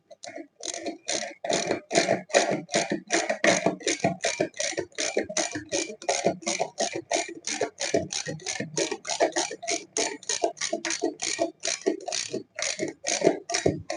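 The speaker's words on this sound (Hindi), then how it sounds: "लाइए इसका रिंच दीजिए। देखिए इस तरीके से इसको लगा करके टाइट कर सकते हैं।" A wrench tightens a bolt on a Haier front-load washing machine during a repair, giving a long, even series of close, crisp ratcheting clicks in a steady rhythm.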